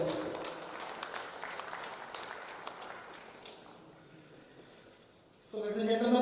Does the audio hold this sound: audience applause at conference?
yes